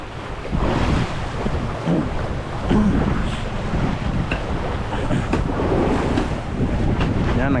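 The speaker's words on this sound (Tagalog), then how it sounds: "nagwawala na ang alon" Rough sea waves surging and crashing around a boat, a loud, continuous roar mixed with gusting wind buffeting the microphone.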